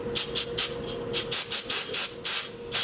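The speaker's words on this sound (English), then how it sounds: "You can even take a little bit of compressed air, blow out through there if it's really dirty again." Compressed air is blown through a camping lantern in about a dozen short, loud hissing bursts in quick succession over a faint steady hum, with no talking.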